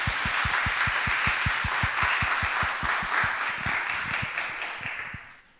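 A congregation at a youth worship service applauds together, a dense, steady wash of many hands clapping with clear rhythmic beats running through it, close and loud before fading out at the end.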